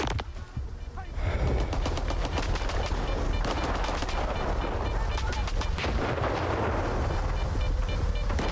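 Sustained automatic gunfire in S.T.A.L.K.E.R. 2: Heart of Chornobyl, a loud continuous burst of rapid shots with heavy booming low end running from about one second to the end, preceded by a quieter moment.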